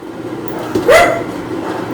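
A single short dog bark rises over steady outdoor background noise in a residential neighborhood, reacting to a gunshot; the bark is fairly close and brief, with no talking.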